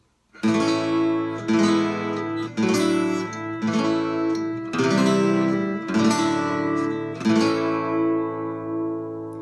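A guitar strums a sequence of six ringing chords, each struck and left to sustain before the next, clear and close with no talking.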